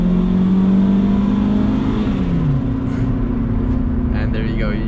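A turbocharged Honda Civic with a D16Y7 engine drones steadily and loudly, its pitch holding then dropping slightly as boost builds toward acceleration, with a faint whir on top.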